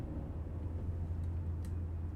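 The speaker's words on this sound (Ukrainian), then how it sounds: "Я чую машину." A car arriving outside in the horror game Fears to Fathom: a low, steady engine rumble heard faintly from indoors, continuous and unchanging for a couple of seconds.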